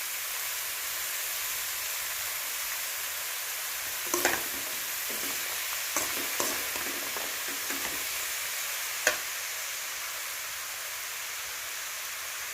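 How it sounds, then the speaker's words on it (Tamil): Chopped green pumpkin frying with softened onions gives a steady close hiss and sizzle, broken by a few brief spoon-and-pan clatters, no talk. "இப்போ நம்ம பொடியாக கட் பண்ண பூசணிக்காயை சேர்த்துக்கலாம்"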